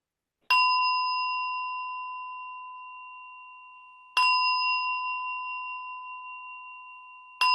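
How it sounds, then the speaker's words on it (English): A meditation bell is struck three times to open a session, each clear ringing tone sounding alone and decaying slowly over several seconds before the next strike. "3 bells to start"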